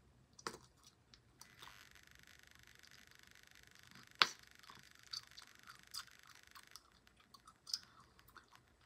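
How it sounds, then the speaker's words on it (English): Slightly old gum chewed close to the mic in a quiet room: soft, wet, irregular smacks and clicks, with a few sharper pops standing out against near silence. "I'm not getting a good bubble or a good pop out of this gum."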